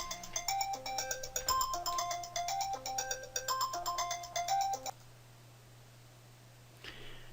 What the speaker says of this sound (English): okay, sorry for the phone call.